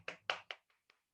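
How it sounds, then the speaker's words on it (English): A short burst of applause for a sales leader: four or five quick, faint hand claps, tapering off within a second. "we want to give another big round of applause for our reigning queen"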